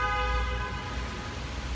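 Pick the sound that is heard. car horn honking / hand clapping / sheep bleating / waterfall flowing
car horn honking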